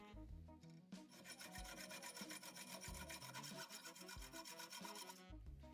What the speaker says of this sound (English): Now take another hose fitting and cut off a small part of it.